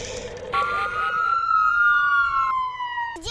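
A toy fire engine gives off a wailing electronic siren, one long tone sliding slightly up and then down with bright harmonics, close and loud, cutting out near the end.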